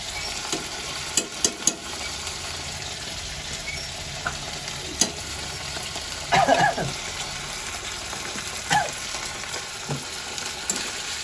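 Chili paste fries in a pan with a steady close sizzle and hiss, punctuated by scattered pops and a few louder scraping stirs of a spoon against the pan.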